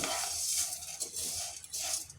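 Vermicelli roasting in ghee in a pan over low heat, with soft scraping and stirring clinks from a utensil against the pan and a faint hiss underneath, quiet and close.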